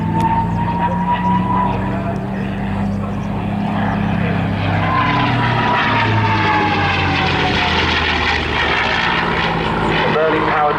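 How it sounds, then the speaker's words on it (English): A Merlin-powered P-51D Mustang fighter flies past at the Southport airshow, its propeller engine droning loud and continuous with a shifting pitch as it passes, while a commentator talks over it. "The Merlin-powered Mustang, sometimes called the plane that won the war."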